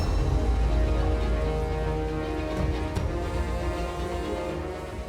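Rain falling steadily in a Ramayan television drama scene, a dense, even wash of hiss and patter that stays loud throughout and fades only slightly at the end, with no voices.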